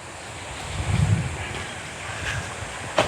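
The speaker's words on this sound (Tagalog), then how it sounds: "Nandito tayo ngayon mga kalingap sa tabi ng dagat" Sea waves wash along a shore, a soft continuous surf roar with a brief swell, mixed with wind buffeting the microphone.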